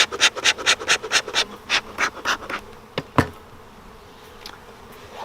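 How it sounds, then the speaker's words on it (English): Bees buzzing near a hive while a nucleus colony is introduced, with a quick run of rhythmic rasping pulses, a sharp knock, then a quieter steady hum. "You get some of those bees moving down there."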